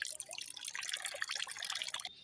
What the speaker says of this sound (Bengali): এখন মাছটা আমি ভালো করে ধুয়ে নিই